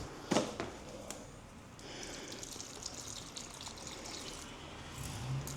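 Water pours steadily from a bottle into a bucket for mixing drywall mud, a soft, continuous splashing gush, preceded by a brief knock near the start.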